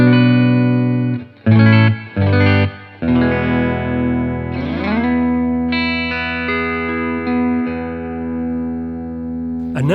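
Fender Telecaster Debut Series electric guitar played through an amplifier on the bridge pickup, with a few choppy chord stabs followed by longer sustained chords and bends, distorted and loud, heard alone.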